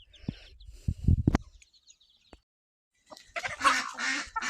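Ducks honk and squabble in a farm shed shared with bantam hens, a few loud close quacking bursts in quick succession, a pause, then a dense stretch of overlapping calls and scuffling.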